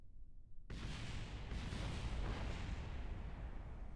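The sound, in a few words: explosions in Kerbal Space Program video game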